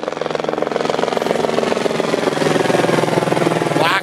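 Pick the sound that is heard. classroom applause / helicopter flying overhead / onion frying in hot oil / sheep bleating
helicopter flying overhead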